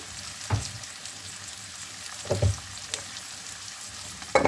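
Onion, garlic and sausage frying in a pan, with a soft steady sizzle and a few louder bursts of stirring or scraping at intervals, no talk.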